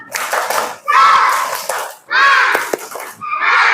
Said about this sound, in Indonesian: kita tepuk semangat dulu biar kalian tetap semangat